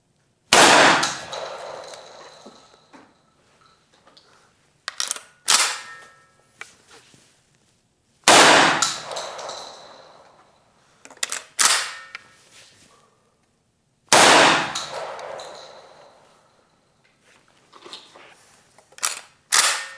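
Loud 12-gauge shotgun blasts from Benelli and Beretta guns fire one after another outdoors, each sharp report trailing into a decaying echo, with metallic action clacks in between.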